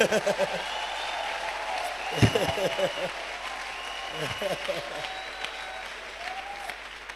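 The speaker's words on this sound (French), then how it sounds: "Acclame pour ton pays." A church congregation applauds, a dense steady wash of clapping throughout, mixed with a voice speaking loudly over it.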